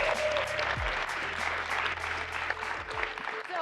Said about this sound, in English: So we deserve one more round of applause for just being here today.